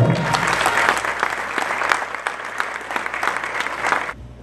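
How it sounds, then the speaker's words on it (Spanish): An audience claps at a municipal award ceremony during a cultural program, with dense, sustained applause filling the room before cutting off abruptly near the end. "Fuerte aplauso."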